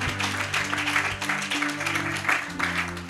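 A church congregation claps and cheers in acclamation, with dense, steady applause mixed with raised voices and tonal background sound filling the room throughout.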